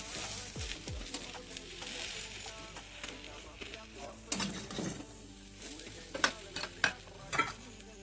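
Okra and potatoes fry in a pan and get stirred, giving a low sizzle with intermittent scraping clinks of the utensil that grow more pronounced toward the end, fairly quiet and close.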